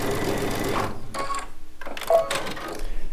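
A sewing machine runs a quarter-inch seam at a 1.8 millimeter stitch length, giving short bursts of rapid, even mechanical whirring with brief pauses between runs, close and moderately loud, with no talking.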